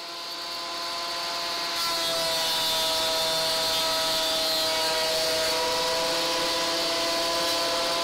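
A wood thicknesser planes wooden guitar fretboards down to about 5mm: a steady, loud mechanical roar with a whining tone that swells as the board feeds through, then holds constant to the end.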